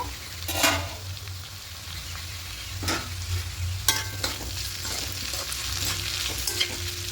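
Bottle gourd peel and potato pieces fry in a pan over a medium flame, a steady close sizzle broken by several sharp scrapes and clatters of a stirring spoon.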